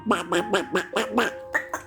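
A duck quacks repeatedly, about seven loud nasal quacks in a quick, steady rhythm, close by with no talking.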